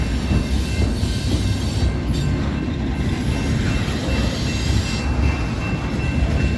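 A CSX freight train hauling loaded center beam cars rolls past close by, a loud continuous rumble of wheels and rail noise with faint squealing and clatter throughout.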